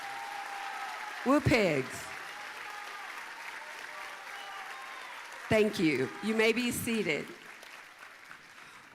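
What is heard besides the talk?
ceremony audience applause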